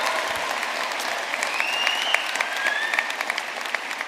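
A university graduation audience in Belfast applauds continuously and densely, with a few whistles cutting through the steady clapping.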